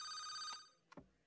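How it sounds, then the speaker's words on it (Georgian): A telephone in a Looney Tunes Show cartoon gives a clear electronic ring that cuts off, followed by a short clatter of the handset being picked up. "ლოლა რეკავს"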